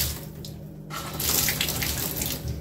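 Water runs steadily from a newly installed bathtub filler faucet with a shower diverter, a close, continuous splashing rush that swells louder after a brief dip near the start, with no talking.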